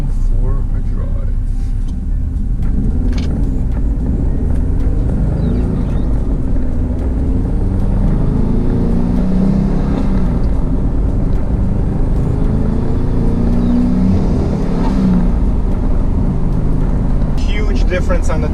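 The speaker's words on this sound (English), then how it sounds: "Okay, let's go for a drive." A Subaru WRX/STI fitted with a Mishimoto radiator and DW300C fuel pump drives on the road, with a loud, steady low engine and road rumble heard from inside the cabin throughout.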